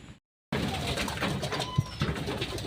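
Racing pigeons arrive back at their home loft after a long training release, giving soft, low cooing and a short burst of wing flutter, fairly close and faint against an outdoor background.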